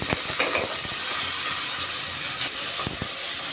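Onion frying in a couple of spoons of hot oil for a potato curry: a loud, steady close sizzle with a few sharp crackles and no voices.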